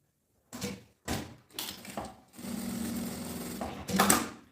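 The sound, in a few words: sewing machine stitching a seam on a bag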